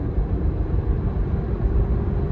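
A car bought at auction accelerates along an open road at night toward about 60 mph, heard from inside as a steady, heavy low rumble of engine and road noise with no voices.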